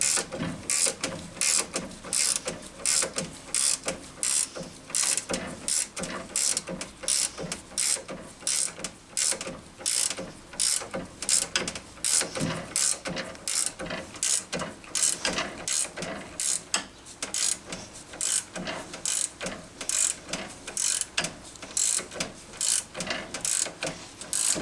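Ratchet wrench tightening the strut top nut on a Honda Civic front strut, a fast steady stream of sharp clicking pawl ticks repeating close up for the whole stretch, with no talking.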